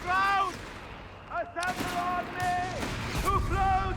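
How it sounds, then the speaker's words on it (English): US mortar and machine gun fire in the video game Company of Heroes 3, with bursts of gunfire and booming impacts mixed with game sounds and voices throughout. "He's gone for the mortar now to counter the machine gun inside the building."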